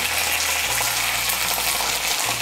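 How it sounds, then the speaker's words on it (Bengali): A little water is poured into a bowl to rinse it into a ground paste of cumin, ginger, black pepper and green chilli. A close, steady gushing splash continues unbroken, with no talking. "আমি মশলার বাটিটা ধুয়ে এর মধ্যে সামান্য একটু জল দিচ্ছি"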